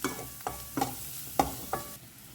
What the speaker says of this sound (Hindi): अब इसे ना 1 मिनट के लिए हमें अच्छे से भून लेना है।